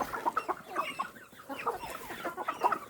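Chickens cluck steadily in short overlapping bursts, several birds close by with no talking.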